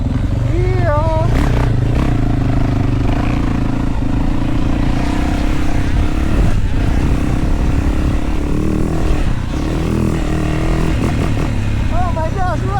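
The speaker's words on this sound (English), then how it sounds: "Let's ride some dirt bikes." Loud dirt bike engine on a motocross track at a former WW2 grenade testing facility, revving and shifting with rising whines and rough throttle bursts, wind buffeting throughout.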